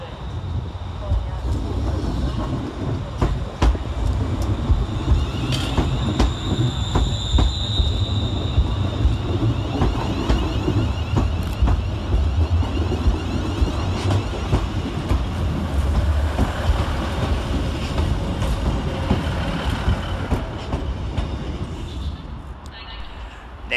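Two ScotRail trains, a Class 380 electric and a Class 156 diesel, stand and run at Glasgow Central station, giving a steady loud rumble with wheel and rail noise throughout and occasional higher whines and squeals, while voices are heard over it.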